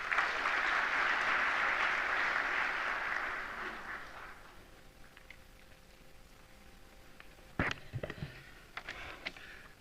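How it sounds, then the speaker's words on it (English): Audience applause swells loudly for about four seconds in an evening reception hall for the Indian community in Bangkok, then fades away, leaving a few scattered claps and small thumps near the end. "Please give him a big round of applause."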